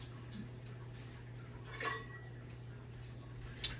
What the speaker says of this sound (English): Grab my pans here. I got 3 8-inch pans here.